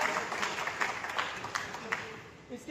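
Applause from an audience at a political core committee announcement event in Goa, welcoming Dr. Jayram Lula; steady, moderately faint clapping from a crowd with scattered sharper claps, continuing throughout.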